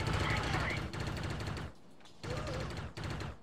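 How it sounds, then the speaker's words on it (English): Suppressed rifle fire in the Delta Force: Black Hawk Down video game, rapid bursts of muffled shots in several runs separated by a short pause, fairly loud and steady. "my gun doesn't sound the same as my teammates' guns, and they have the same one"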